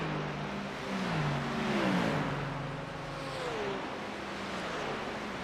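GT3 race cars in a racing video game at Watkins Glen drone past at moderate distance, engines rising and falling in pitch as they shift and accelerate, a steady layered whir with no talking.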